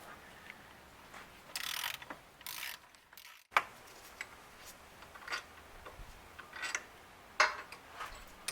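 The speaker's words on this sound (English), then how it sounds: "undo those 3 bolts. It's a 13mm." A ratchet wrench clicks in short bursts while undoing 13mm bolts on the intake manifold of a 1999 Jeep Cherokee XJ 4.0 engine, close-up metallic ticking with brief pauses and small clanks between strokes.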